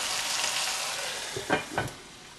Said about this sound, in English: So I'm trying to do now is simmer it.